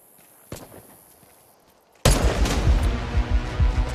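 Gunfire erupts in a competitive free-to-play shooter video game: after a lone sharp shot, a dense, loud fusillade of rapid shots begins midway and continues without pause.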